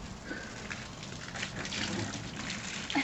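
Water splashing and trickling in a back yard as a small child washes a toy fire truck, a steady close wash of liquid sounds with light sloshes.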